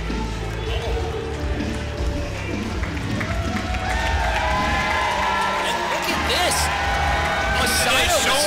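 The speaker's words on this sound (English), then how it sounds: "Give them a round of applause, wait a minute, they deserve it." Steady crowd noise fills an arena at a tag team championship wrestling match, a continuous roar with cheering and applause throughout, with a commentator talking over it.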